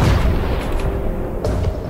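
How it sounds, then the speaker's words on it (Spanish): A cannon firing in the Roblox video game, a single loud booming blast with a rumbling low tail, heard alone with no talking. "¿Le he dado un cañonazo?"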